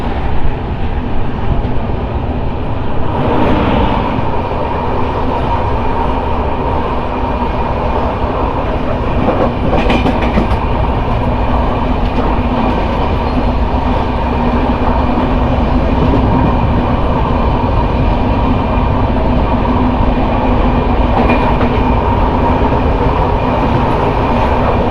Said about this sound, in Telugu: జామ్నగర్ నుంచి తిరునవేలి జంక్షన్ వరకు వెళ్తుంది ఈ ట్రైన్